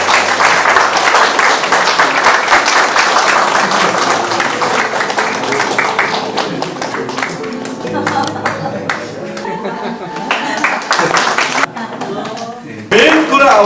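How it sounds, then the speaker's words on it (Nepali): Wedding guests at a Nepali Christian ceremony clap together in a dense, sustained burst of applause that thins into scattered claps, with voices talking underneath and a brief louder flourish near the end. "ताली पड्काइदिनु सबैजनाले।"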